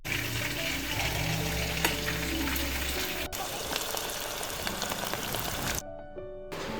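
Malvani-style prawns koliwada fry in oil with a loud, continuous bubbling sizzle, punctuated by clicks and scraping, before the sound drops away abruptly near the end.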